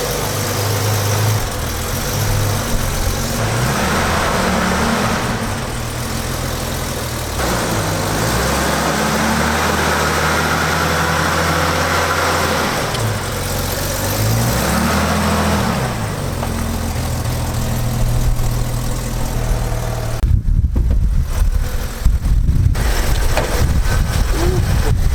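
A six-cylinder BMW 528i engine runs with a steady, close idle hum that wavers slightly in pitch, and the tone shifts near the end.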